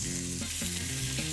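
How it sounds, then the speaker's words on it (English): Crusted fish sizzles loudly in a hot pan, a bright crackling hiss throughout the short moment, with a faint low hum underneath. "Let's hear a nice sizzle."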